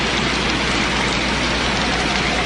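Rain falls hard and steady, a dense, loud, unbroken hiss with no pauses and no voices.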